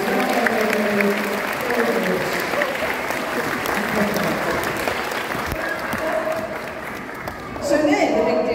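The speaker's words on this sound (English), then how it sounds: "Give them a big round of applause" An audience at a sea lion show claps in a broad, sustained wash of applause, with voices and faint crowd murmur mixed in, steady throughout and briefly swelling near the end.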